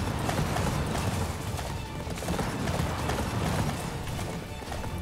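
Rapid rhythmic clip-clop of horse hooves galloping in Attack on Titan 2, a dense continuous drumming of hoofbeats at close range, loud and unbroken, with no talk over it.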